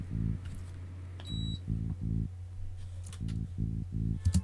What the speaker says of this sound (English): I'm using an operator device for it. This is how only the bass sounds.